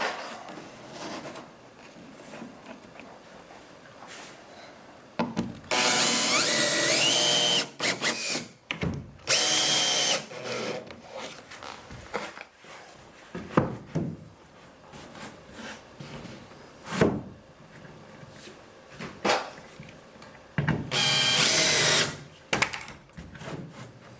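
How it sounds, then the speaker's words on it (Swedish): A cordless power drill drives screws into the roof of a wooden playhouse in three loud whirring bursts separated by quieter stretches of tool handling and knocks. "upp mot taket så långt det går och skruva fast"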